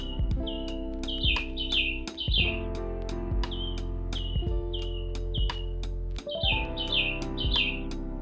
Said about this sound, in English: Suddenly, they heard a soft chirping sound. It sounded small and a little sad.